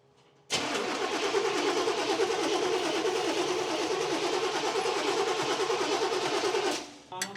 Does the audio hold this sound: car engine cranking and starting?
yes